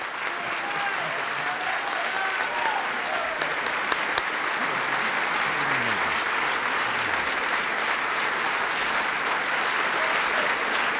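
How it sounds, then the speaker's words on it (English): Continuous audience applause fills a formal presidential Supreme Court nomination event, even and steady, with scattered brief voices faintly under the clapping. "I think that you're applauding my friend."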